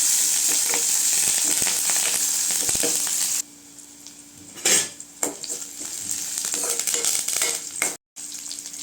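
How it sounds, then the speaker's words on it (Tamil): Onions sauté in a pan for bottle gourd thokku, giving a steady close sizzle with scrapes and clinks of a utensil against the pan, quieter after a few seconds, and a brief break near the end. "வெங்காயம் நல்லா வதங்கட்டுங்க"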